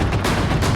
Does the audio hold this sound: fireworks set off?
yes